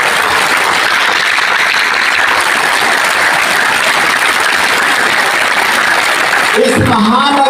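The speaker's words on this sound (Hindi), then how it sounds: "एक बार अपने लिए जोरदार तालियां बजाएं" A large crowd at a yoga day event in Chhatrasal Stadium applauds loudly and continuously. A voice comes in near the end over the fading claps.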